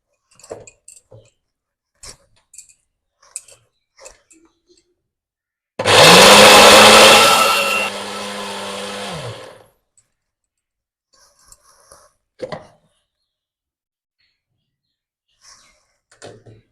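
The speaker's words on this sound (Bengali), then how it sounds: "হালকা একটু জল দিয়ে মিক্সিটা করে নেব।" Mixer grinder churning dal with a little water, a loud whirring grind of about four seconds that drops to a lower steady hum before cutting off, with scattered clinks and clicks before and after.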